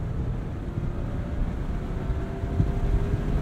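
A 2023 Mazda MX-5 Miata with a manual gearbox and a 181-horsepower engine revs under wide-open throttle toward its 7,500 RPM cutoff. The sound is a steady, loud, low engine drone that builds slightly, mixed with road and wind rumble, and no one speaks.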